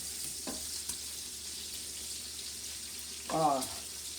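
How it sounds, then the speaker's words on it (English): Faint sizzling of food frying in a pan, a soft steady hiss with a brief louder burst of crackle near the end. "you hear that sizzle?"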